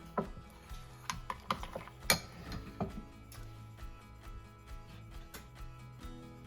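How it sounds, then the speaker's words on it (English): A spoon stirs cooled custard in a bowl, giving a quick series of light clinks and taps against the bowl, close and fairly quiet, with no talking. "Just going to give it a quick stir."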